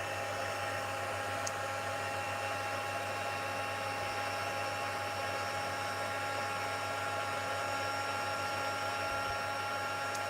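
Steady, even whoosh of a heat tool melting gold embossing powder on a stamped card made with a sunflowers stamp set, continuous and fairly loud with no talking.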